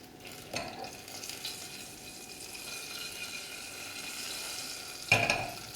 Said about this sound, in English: Okay, so let that crackle.